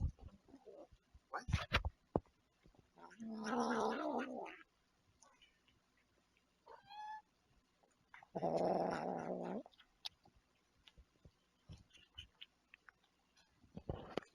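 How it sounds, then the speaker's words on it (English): A dog growls over a cookie crumb in two low rumbling bursts of about a second each, close by, amid quiet clicks and brief rustles. "He's growling about it."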